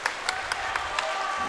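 A student section crowd applauds at a boys' varsity high school basketball game in Winamac, steady clapping with sharper bursts rising above a busy gym murmur.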